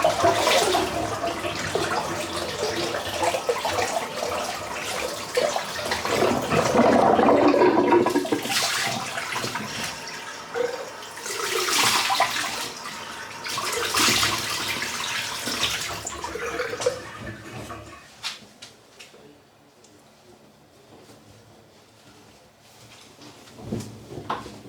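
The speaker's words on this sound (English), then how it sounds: "You just rinse off." Running water from a tap rinses a face after a wet shave with a Feather razor, a steady splashing flow with cupped-hand splashes that fades down near the end, heard alone without speech.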